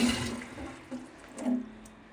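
Water runs and splashes into a small teapot being filled for tea, a steady close pour with a few louder gurgling surges, no voices.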